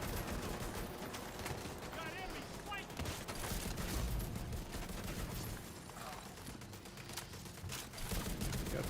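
Automated turrets in The Division 2 fire in rapid, dense bursts, loud and continuous across the whole stretch, with game noise mixed in.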